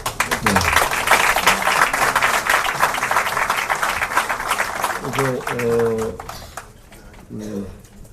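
Lawmakers at a National Assembly caucus applaud to approve a motion. Several seconds of dense, steady applause fill the room, then it fades while someone speaks.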